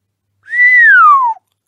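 A single clear whistle, starting with a quick rise then gliding slowly downward in pitch, heard alone for about a second.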